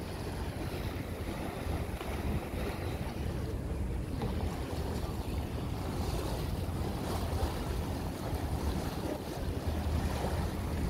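Water bus cruising at sea off Copenhagen, a steady, loud rush of engine drone, hull wash and waves with heavy wind buffeting the microphone throughout, no voices.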